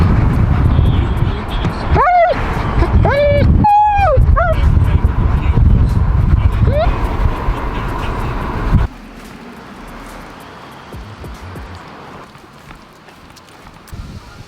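A dog named on command gives a few sharp barks and yips in quick bursts, close and loud over steady outdoor noise in a park, followed by quieter ambience.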